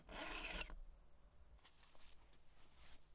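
A Vallorbe file rasps across a chainsaw depth gauge in one loud, dense stroke of scraping, followed by softer, fainter rubbing and scraping sounds up close.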